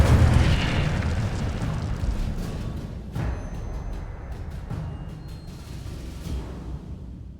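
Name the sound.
Incendio fire spell explosion in video game Hogwarts Legacy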